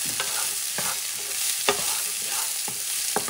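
A spoon stirs an octopus rice mixture frying in a pan, with a steady sizzle underneath and soft repeated scraping strokes at a close distance.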